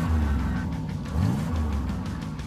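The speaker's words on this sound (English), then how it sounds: "Start your engines!" Go-kart engines rev at the start of a race, a close, continuous motor drone that rises and falls in pitch as the throttle opens, with no voices over it.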